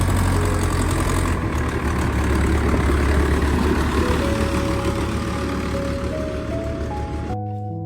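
A boat engine drones loud and steady at Boglauri ghat on the Padma river, a continuous low rumbling throb that barely changes until it cuts off abruptly near the end, with a rising tone underneath.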